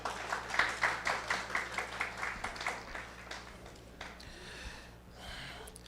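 At a Bates Memorial High School graduation ceremony, a crowd gives a round of rhythmic, fairly faint clapping that fades out into quieter room noise.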